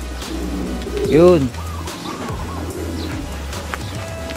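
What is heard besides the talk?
pigeons cooing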